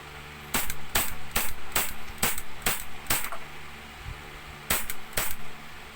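A WE IRex airsoft gun fires on semi-auto, giving sharp, close, evenly spaced single shots, seven in a row, then a pause and two more, with no talk.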